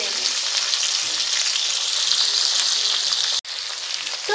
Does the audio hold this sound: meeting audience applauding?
no